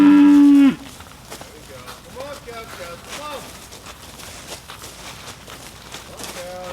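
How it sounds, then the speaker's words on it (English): Several cows mooing while being herded, repeated drawn-out moos at varying distances over a low outdoor background, following a brief loud tone at the start. "Come on, cows, come on!"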